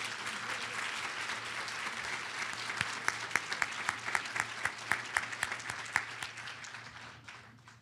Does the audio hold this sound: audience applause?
yes